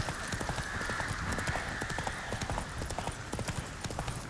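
A horse's hooves clip-clop steadily in The Witcher 3, a brisk, even trotting rhythm of sharp, close hoof strikes that carries on throughout, with no talk over it.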